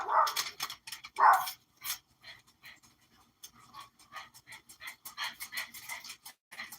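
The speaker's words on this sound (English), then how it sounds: "Never fails, she's going to bark." A dog barks indoors at someone passing the window, two sharp loud barks followed by a run of quieter yips, whimpers and panting, with no talking.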